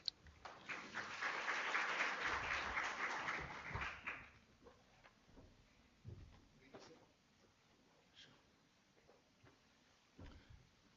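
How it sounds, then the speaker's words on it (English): An audience at a research seminar applauds for a few seconds, a swelling wash of clapping that fades out, followed by quiet room noise and scattered murmurs. "Let's give him another round of applause"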